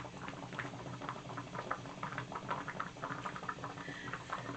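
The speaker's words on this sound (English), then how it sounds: "So now as our water heats up" Water heating in a pot on a stove gives off a faint, steady fizzing and pattering bubble noise, continuous and close with no talking.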